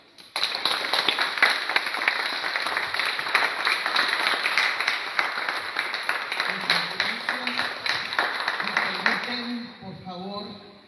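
A crowd claps and applauds steadily for several seconds, dense and even, before fading out as a voice begins.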